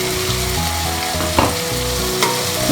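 Pre-fried prawns dropped into a pan for a malai curry, frying with a steady crackling sizzle close by, stirred a couple of times with brief clatters, no voices.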